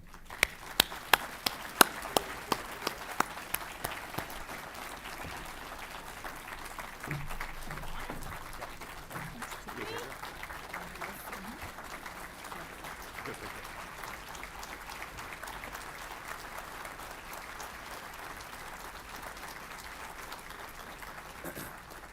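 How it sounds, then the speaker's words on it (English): Audience applause welcoming U.S. Senator Shelley Moore Capito to the stage at the West Virginia Chamber 2025 Business Summit, a steady sustained clapping from a large room that starts with a few sharp claps and holds at an even level throughout. "please help me welcoming to the stage the Honorable U.S. Senator Shelley Moore Capito"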